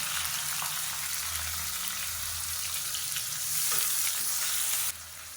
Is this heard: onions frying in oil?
yes